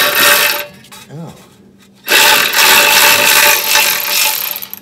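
A wrench works loose a rusty exhaust bolt on a 1989 Toyota MR2 with a supercharged engine, loud close metallic ratcheting and grinding in two bursts separated by a short quiet gap.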